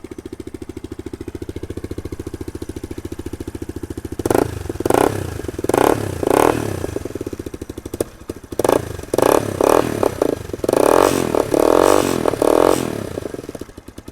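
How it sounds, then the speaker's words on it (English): A Suzuki VanVan motorcycle runs through a custom exhaust, idling with a steady thumping pulse and then blipped in repeated sharp revs, close and loud with no talking. "Such a better sound out of that exhaust system."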